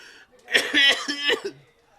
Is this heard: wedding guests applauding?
no